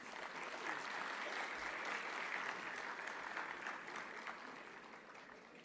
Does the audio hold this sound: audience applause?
yes